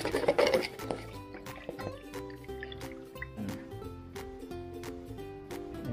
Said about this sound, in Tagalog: ito po yung ating sasalain sa pinong salaan para maiwasan po natin yung buo-buo